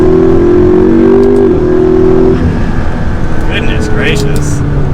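A tuned McLaren MP4-12C with the powertrain in track mode revs hard and close with a loud, steady roar, then eases off about halfway to a lower, rougher engine note.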